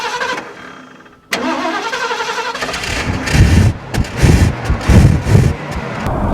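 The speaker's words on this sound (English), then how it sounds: "let's take it 0 to 60 and see how fast she'll do." A carbureted classic American luxury car engine roars up from a lower hum into a loud, close, surging rumble, swelling in repeated waves as it accelerates, with no voices over it.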